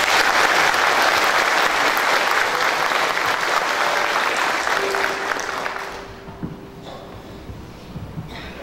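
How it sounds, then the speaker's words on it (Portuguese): A large congregation at a church tithing gathering gives a loud, sustained round of applause that tapers off after about five seconds into a quieter room with scattered sounds. "Uma salva de palmas."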